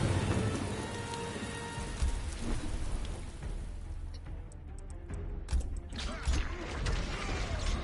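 A rain sound effect plays as a dense, loud downpour with drops pattering on a surface, occasional creaks and low rumbles mixed in, and no voices.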